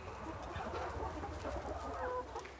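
Chickens on a French poultry farm cluck in a busy, continuous chatter, several birds close by against a low rumbling background, with no talk.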